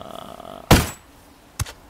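A single gunshot in the video game Ghost Recon Wildlands, one sharp loud close report followed by a softer second thump a moment later, over quiet background.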